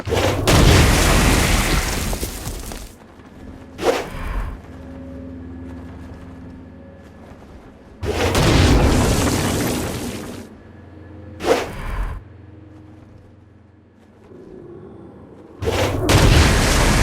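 Explosion blasts in the video game Saints Row: Gat out of Hell, three heavy booming bursts with rushing tails, evenly spaced and loud, separated by quieter ambient game sound.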